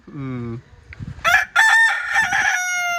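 A rooster crows loudly nearby, a drawn-out cock-a-doodle-doo after a short cluck, with a bit of background murmuring.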